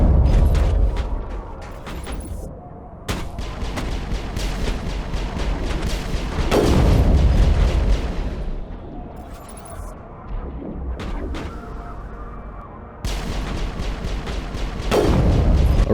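Heavy booming sniper rifle shots in the Mass Effect 1 video game, a few loud blasts spaced several seconds apart, each with a long rumbling decay over a low mechanical background.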